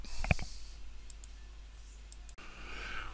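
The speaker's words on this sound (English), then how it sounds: "Select the HTML tag and click the Insert New Rule button" A single crisp computer mouse click near the start, then a faint room hiss with a few quieter ticks.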